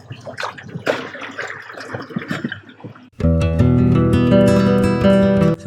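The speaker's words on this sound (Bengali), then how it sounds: "ওইখানে নৌকা চালাচ্ছি" A small boat moves at night through a canal cut into a prawn farm, with close splashing and sloshing water for a few seconds before loud music takes over and covers it.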